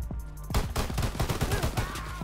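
Gunfire in a shooter video game, a loud, rapid volley of repeated shots after a brief quieter opening, close and continuous with no talking over it.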